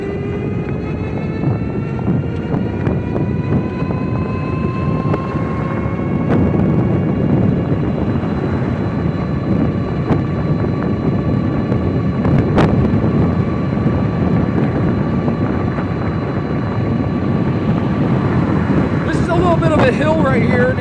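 A Eunorau Flash e-bike climbs a hill on throttle, its motor giving a faint rising whine under constant loud wind rumble across the mic, with a brief tick near the middle.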